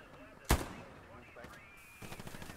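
A single loud, close machine gun shot cracks out in the WWII shooter Hell Let Loose, followed by a quieter distant volley, with battlefield noise underneath.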